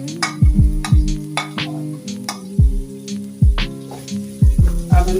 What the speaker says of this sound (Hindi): अब हम इस प्याज को गोल्डन फ्राई कर दें।